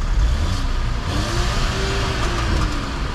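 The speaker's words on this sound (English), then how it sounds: "Rev that up." A car engine revs loudly nearby at a mountain biking spot, a heavy low rumble rising in pitch through a couple of rev sweeps, with no talking over it.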